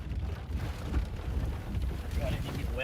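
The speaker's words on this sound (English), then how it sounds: "It's so windy." A strong wind buffets the microphone outdoors during a severe weather outbreak with possible tornadoes nearby, a rough, continuous low rumble with gusty swells. Voices speak faintly under it.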